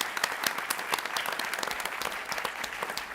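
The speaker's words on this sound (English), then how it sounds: "Let's also give another round of applause for the Summer Cloud Singers of the Keweenaw Bay Indian community." An audience at a court community event applauds steadily for the Summer Cloud Singers of the Keweenaw Bay Indian Community, many hands clapping together in a continuous, moderately distant round with no talk over it.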